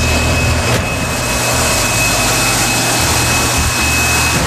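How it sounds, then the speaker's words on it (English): A gas turbine generator producing about 34,000 horsepower in the engine room of the cruise ship Radiance of the Seas, a loud, steady, whining roar with a deep rumble, continuous and close. "This is one of our gas turbines."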